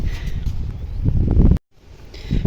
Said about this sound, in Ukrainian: Ну це ж вітрюган, бачите, рівненький.